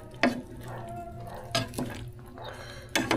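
Onions being stirred in a pan, with three distinct scraping knocks of a utensil against the pan over a soft, steady sizzle; close and fairly quiet.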